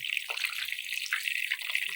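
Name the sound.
spinach sizzling while frying in pan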